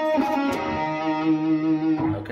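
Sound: guitar playing first phrase of a song

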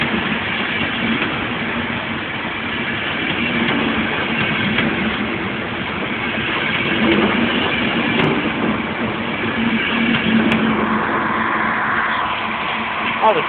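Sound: train at Connolly station

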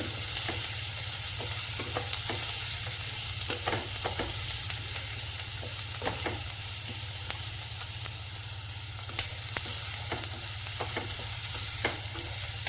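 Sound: onions being stirred while frying in ghee

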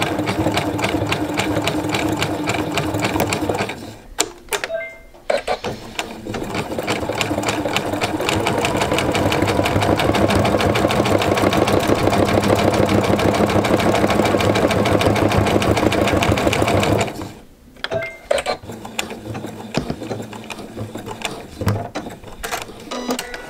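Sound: sewing machine stitching a jelly roll rope bowl

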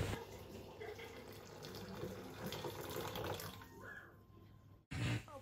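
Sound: pouring hot water over lentils to soak

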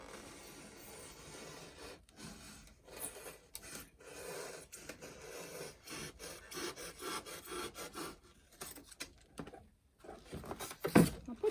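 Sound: trimming foam cloud corners with an ordinary utility knife

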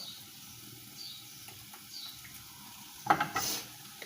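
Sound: light soy sauce added to sizzling fried rice in a pan

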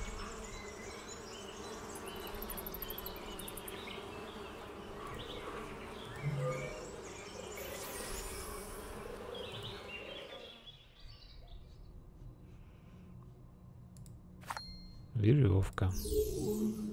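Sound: bees buzzing in the video game Namariel Legends

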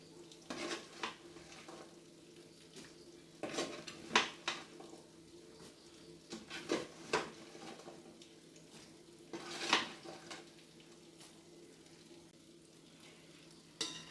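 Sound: stirring fried fish into pickle in a pan

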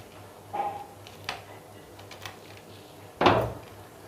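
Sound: crispy bread roll being broken open

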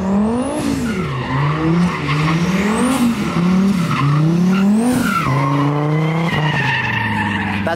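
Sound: car drifting at a drift event, tires squealing

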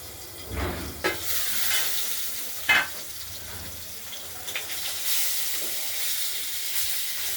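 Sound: rohu fish pieces frying in a covered pan

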